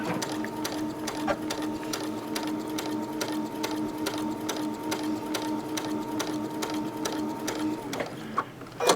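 A sewing machine steadily stitches across the seams of a Dutchman's Puzzle quilt block, its fast, even mechanical chatter running close and continuous before a brief stop and a few handling clicks at the end.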